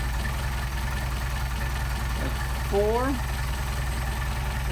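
A Mercedes 190SL engine with Solex carburetors idling at about 500 RPM: a steady, low, even rumble continues throughout, with a brief spoken word over it.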